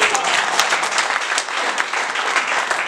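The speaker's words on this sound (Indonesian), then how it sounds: "Tepuk tangan dulu." An audience at a formal welcome for the 14th Sultan of Deli in North Sumatra breaks into steady, dense applause, many hands clapping continuously and fairly close for the whole stretch, with no break in the sound.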